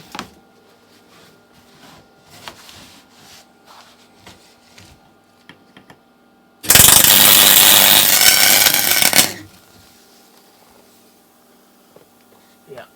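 A Parkside welder joining metal gives one loud, steady, crackling burst lasting about two and a half seconds, with quieter handling and tool clatter before and after.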